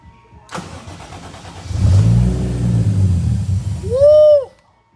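A Toyota 1JZ engine swapped into a Nissan S13 cranks and fires on the third try, rising into a loud rumbling idle, then a sharp rev flares near the end before it cuts out.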